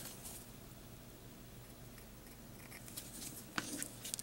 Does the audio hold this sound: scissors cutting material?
yes